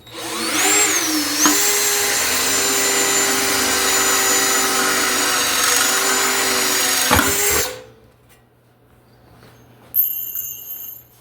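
Power drill boring a 3/16 hole through a single piece of sheet metal, a loud sustained high whine for about seven seconds that cuts off abruptly, followed by quiet and a short metallic ring.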